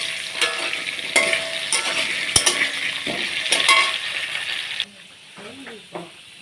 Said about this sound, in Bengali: কচু আলুগুলো বেশ লাল করে ভেজে নেব।